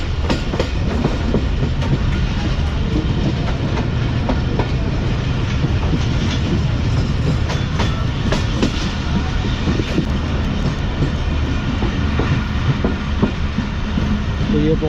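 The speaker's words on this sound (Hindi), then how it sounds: "पूरे 5:10 पर हमारी ट्रेन अप्रोच बना रही है टंडो आदम रेलवे स्टेशन पर" A passenger train pulls into Tando Adam Junction railway station in Pakistan, wheels rumbling loudly and clattering rhythmically over the rails in a continuous close roar, with faint voices underneath.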